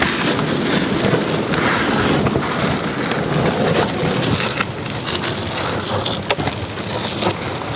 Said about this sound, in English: The wind is picking up a little bit now